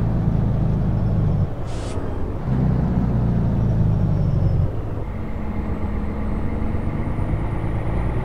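Simulated heavy truck engine at full throttle in American Truck Simulator, a loud steady low rumble with a brief dip around a gear change and a second drop near the end, no talk.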